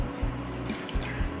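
Starchy, salted pasta water from cooking whole wheat spaghettini trickles and drips into a sardine pasta sauce mixture, a soft, brief liquid pour with no talking.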